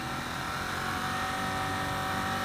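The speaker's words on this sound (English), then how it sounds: "Does have a nice exhaust note on the overrun." The exhaust of a 2016 Ducati Monster 1200 motorcycle burbles on the overrun, a steady loud engine note with rapid pulsing heard up close from the riding position.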